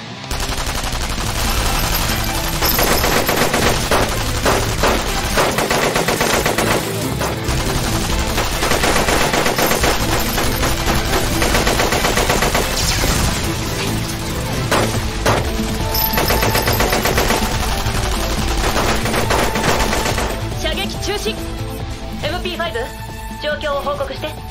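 Sustained machine gun fire from the Dolls Frontline video game rattles loudly and almost without pause for over twenty seconds, dense and close, thinning out only near the end.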